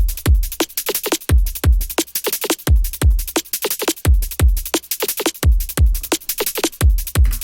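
A drum loop with its kick pulled out and a punchy snare one-shot layered in runs in a steady, repeating groove with sharp, snappy transients, played alone and up front.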